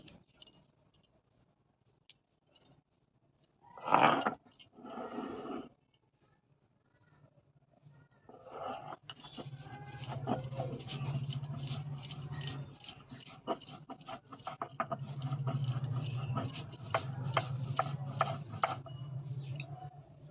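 Poppy seeds and green chillies being ground on a flat grinding stone give off a rhythmic, repeated scraping and rubbing that grows steady and fairly loud over the second half, after a few sharp knocks early on.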